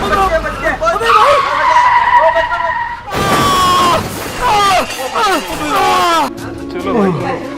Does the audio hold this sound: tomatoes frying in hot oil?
no